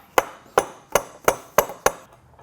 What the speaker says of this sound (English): including probably needing a hammer. And then knocking it over into place.